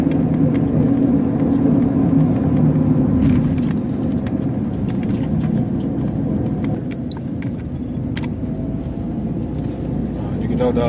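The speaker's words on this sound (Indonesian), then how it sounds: "di sini mobil yang lewat" Cars passing on the winding Gunung Geurutee mountain road in Aceh Jaya, on the Banda Aceh to Meulaboh route: a steady, loud rush of engine and road noise that continues for the whole clip.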